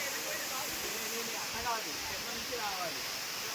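Bodduguudem waterfall roars as a constant, broad rush of water, with voices talking faintly over the steady noise.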